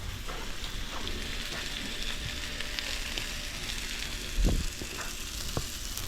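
Butter melts and sizzles on a hot griddle beside ribeye steaks, a faint steady crackle with a brief louder pop and scrape midway.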